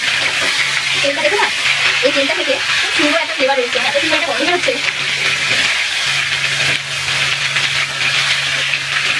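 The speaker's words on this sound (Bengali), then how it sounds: "এখন থাকবে এটাকে ভালো করে ভেজে নেবো" Chicken leg pieces fry with spices for rezala, giving a steady broadband sizzle that runs throughout with a low steady hum beneath, and someone speaks over it for much of the time.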